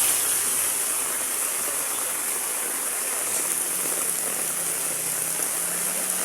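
Heavy rain pours in a steady, dense roar that runs unbroken throughout, loud and close with no voices.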